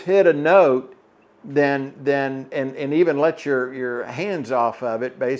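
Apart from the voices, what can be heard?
No everyday noise stands out behind the speech.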